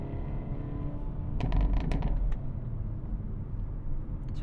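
Cabin of a 2024 Hyundai Elantra N with its engine droning low as a cluster of sharp exhaust pops and crackles bursts out on lift-off, a few quick bangs standing out over the rumble.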